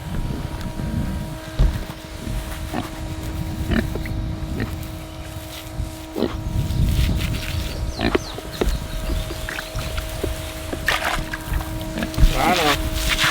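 Pigs on a homestead during a heat advisory grunting and snuffling near a hose rig as they are wetted down, short scattered grunts over a constant mechanical hum, with a person talking at times.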